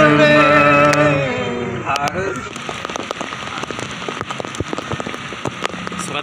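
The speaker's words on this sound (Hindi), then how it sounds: "इस वक्त कराची में माशाल्लाह बहुत तेज़ बारिश हो रही है, शदीद बारिश हो रही है।" Heavy downpour in Karachi, a steady hiss of rain drumming on surfaces with scattered close drops. Someone speaks briefly at the start before the rain carries on alone.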